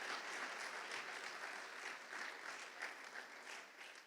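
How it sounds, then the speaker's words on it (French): An audience at a political meeting applauds steadily, a dense sustained clapping from a crowd that fades slightly toward the end. "Vous pouvez l'applaudir."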